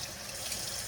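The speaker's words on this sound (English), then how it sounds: "Let me rinse my hands real quick." Tap water runs steadily over hands being rinsed at a kitchen sink while making historical mushroom ketchup, a close, even, continuous splashing hiss with no talk.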